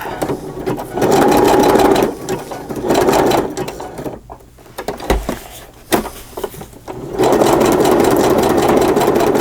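A sewing machine stitches through a paper journal cover in loud, close bursts, running steadily, pausing with soft handling clicks in the middle, then whirring again to the end.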